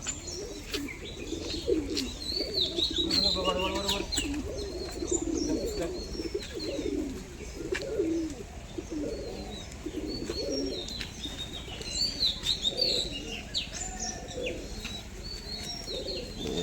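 Pigeons of several breeds offered for sale, including Giribaz, coo repeatedly in low, rolling calls, with higher chirps and occasional wing flaps over a constant background hum.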